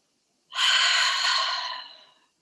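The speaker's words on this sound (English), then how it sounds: "big exhale" A single big exhale, a long breathy whoosh from a person in a guided relaxation, lasting under two seconds and fading out gradually, heard alone with no talking.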